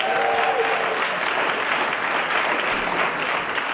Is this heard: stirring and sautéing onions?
no